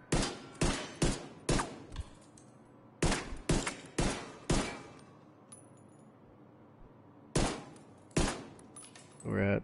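Pistol shots in the game The Division 2, a sharp loud series of single shots in short bursts of three or four with brief pauses between, ending in a small click.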